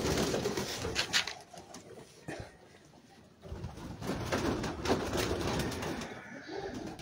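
Pigeons at a fancier's loft coo in a low, continuous murmur, several birds overlapping close by, dipping briefly in the middle before resuming steadily.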